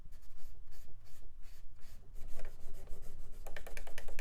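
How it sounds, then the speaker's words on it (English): Old thermal paste is scrubbed out of CPU sockets in a retro PC tower, close, quiet rhythmic rubbing and scraping strokes that quicken toward the end. "let's get the remnants of this thermal paste massacre out of these CPU sockets"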